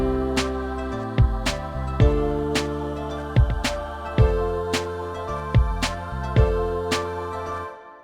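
Plucked acoustic-style guitar melody from the Ample Guitar Light software instrument in a beat, notes struck in a steady rhythmic pattern with ringing sustain, loud and clear with no voices, panned left.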